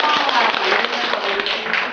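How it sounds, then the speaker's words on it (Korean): Audience applause at a Korean Buddhist temple gathering, welcoming two guests to the front; a loud, continuous wash of many hands clapping together, steady throughout without talk over it. "큰 박수로 맞이해주시기 바랍니다."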